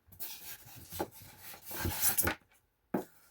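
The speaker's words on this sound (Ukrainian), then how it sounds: "накриваємо наш інкубатор. кришкою." A lid being set onto a Teplusha egg incubator during egg loading: a few close scraping rubs and soft knocks, then a brief pause and one final short thud as it settles.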